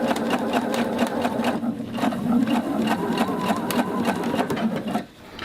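A Husqvarna Viking sewing machine stitches fabric in a fast, steady mechanical chatter, close and continuous, with a slight dip near the end.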